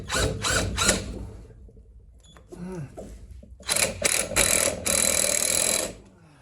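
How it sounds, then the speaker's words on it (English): A bench vise being tightened in a workshop during a motion simulator frame build, with ratcheting, grinding metallic bursts separated by a quieter pause with a few clicks; close and fairly loud. "Just need to get this vise a bit tighter."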